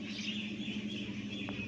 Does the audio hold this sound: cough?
no